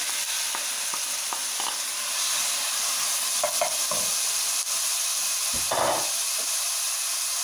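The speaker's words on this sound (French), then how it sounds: "On va mettre de l'huile pour faire revenir les oignons." Onions sautéing in hot oil for a stuffed msemen filling give a steady close sizzle and hiss, with a few soft scraping stirs along the way and no talking.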